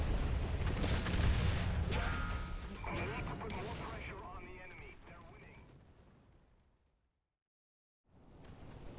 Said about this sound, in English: I managed to escape that horrible, horrific explosion that killed literally all of my crew